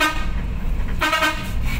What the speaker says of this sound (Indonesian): Klakson, Bang.